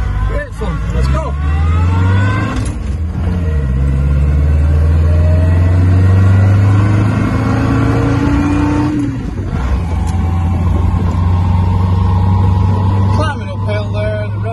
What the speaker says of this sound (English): We're going to zoom off up the hill.